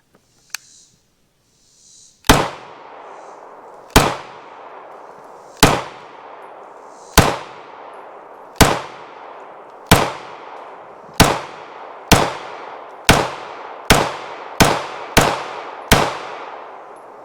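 A Walther P99 AS Final Edition pistol fires fourteen sharp, loud shots outdoors, the first few spaced out and the later ones in quicker succession, each crack followed by a brief echoing decay.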